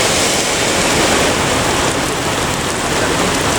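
Heavy rain pours down hard around Gunung Medan, a loud, dense, unbroken hiss of drops drumming on surfaces with no voices over it.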